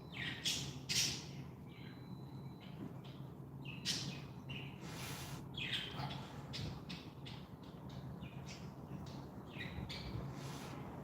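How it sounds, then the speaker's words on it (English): Seagulls squawk and call repeatedly at a moderate distance, their harsh cries rising over a low, steady background hiss. "they hear the seagulls or see the seagulls"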